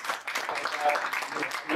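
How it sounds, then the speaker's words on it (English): An audience at an evening panel event applauds with steady, dense clapping that fills the whole stretch, fairly close, with a few voices mixed in. "let's give another round of applause"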